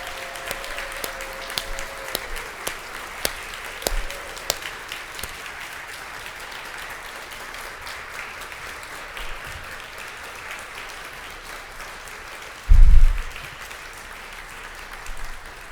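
An audience at a closing address claps in a steady, broad wash of applause that carries on for a long stretch, with a bump of handling noise near the end.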